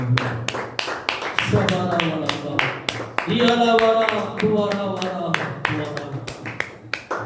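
A church congregation at IPC Krupa Prarthana Mandir claps in steady rhythm during a Telugu worship song, sharp, even hand claps over continuous singing voices and music.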